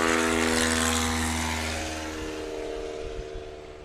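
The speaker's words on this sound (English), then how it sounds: "Rick Boardman's going to give us some full throttle action while he brings up the tail." A STOL airplane's propeller engine at full throttle during a short takeoff competition: a loud, close, sustained droning roar with strong harmonic buzz that slowly fades as the plane moves away.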